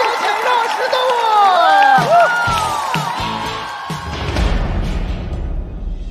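An audience at a stand-up comedy competition show cheers and whoops as a comedy duo is called up, with loud voices shouting over the room and then a rough swell of applause and crowd noise.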